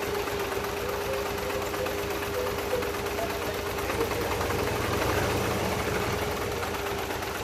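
Mazdaspeed 3 engine running at very low RPM, a steady rough idle with a fast even pulsing and mechanical rattle close by, constant and moderately loud throughout with no talk.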